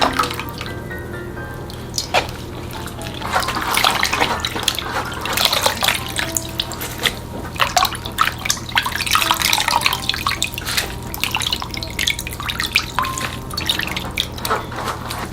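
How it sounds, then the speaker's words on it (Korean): Blanched lettuce is dropped into cold water, with close, continuous splashing and dripping water that swells and settles over about fifteen seconds, no voices. "상추를 건져서 바로 찬물에 넣고 열기를 식혀주세요."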